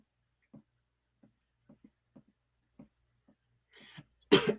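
A few soft, scattered ticks in a quiet room, then one loud, sharp cough bursts out at the very end.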